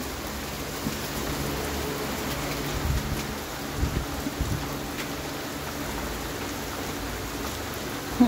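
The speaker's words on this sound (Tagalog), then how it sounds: "Saka naman nag-uulan" Steady rain patters continuously on a surface nearby, with a broad hiss and a few louder drops; no voices.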